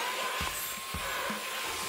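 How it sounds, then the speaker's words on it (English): A vacuum cleaner running steadily over a switch hole cut in PVC pipe, a loud continuous whooshing drone with faint low thumps underneath. "Now I'm going to turn on the vacuum over the switch hole and put my hand on this side of the PVC."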